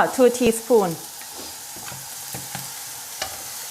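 Fried rice with egg, sweet soy sauce and light soy sauce being stirred in a hot pan in Thai home cooking: a few loud scraping strokes up front, then softer intermittent scrapes and a faint sizzle.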